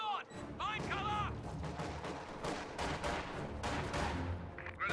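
An MG-34 machine gun fires among other gunfire and explosions in a World War II strategy game battle, rapid bursts and booms crowding the mix with game voice lines talking over it.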